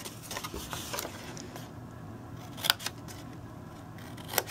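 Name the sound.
scissors cutting scored card stock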